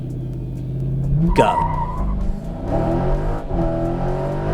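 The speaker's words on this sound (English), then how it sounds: "Listen to that, let's listen to the motor." A 2019 Dodge Challenger R/T Scat Pack with 485 horsepower launches hard on a racetrack straight, its V8 roaring up through the revs with a brief tire squeal, loud and close; one short spoken word precedes the launch.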